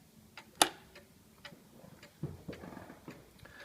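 An antique Black Forest gothic cuckoo clock, fully serviced, ticks in a steady, quiet rhythm, with one sharper click early on and faint mechanical rattling midway.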